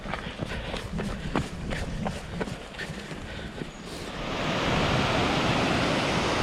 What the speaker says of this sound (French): C'est la cascade à pas rater, c'est ce qu'on appelle ici le voile de la mariée.